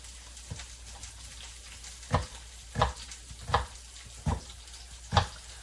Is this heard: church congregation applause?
no